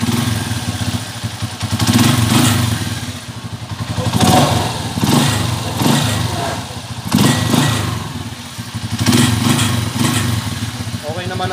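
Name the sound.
Yamaha Mio Soul i 125 scooter engine started and running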